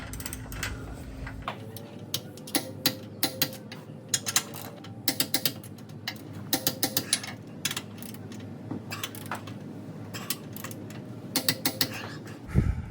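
A ratcheting wrench torques down CURT Class 3 tow hitch bolts on a Lexus GX460, producing quick clustered bursts of sharp clicks with short pauses between them, close and clear.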